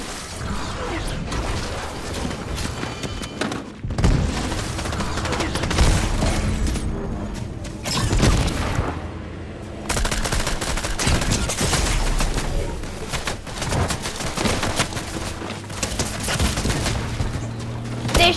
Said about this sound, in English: They shot through the wall.